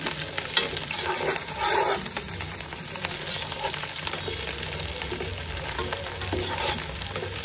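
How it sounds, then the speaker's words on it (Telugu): Onions and coriander leaves sizzle steadily in hot oil for mutton biryani, with frequent scraping and clattering stir strokes over a continuous close frying hiss. "దీని జతకి రోంతో కొత్తిమీర ఆకు వేసుకొని బాగా కలపెట్టాలి."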